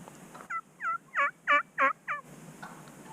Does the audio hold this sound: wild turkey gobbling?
yes